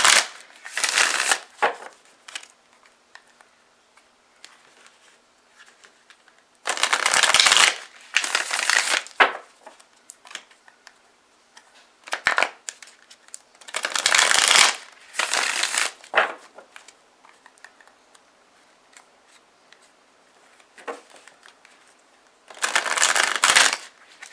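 Tarot cards are shuffled by hand in repeated crisp, riffling bursts of a second or two, separated by quiet pauses, close and clear with no talking.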